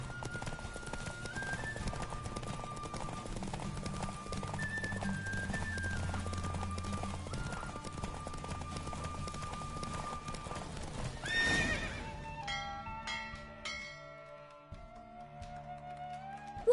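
A horse gallops in a race in The Witcher video game, its rapid rhythmic hoofbeats running steadily under game music and crowd ambience, then giving way to a short musical flourish near the end.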